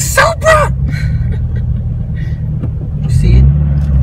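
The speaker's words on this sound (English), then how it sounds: "See all the cars coming back." Cars including Mustangs and a Supra rumble past steadily with engine drone and a swell of passing noise near the end, while people talk over the traffic.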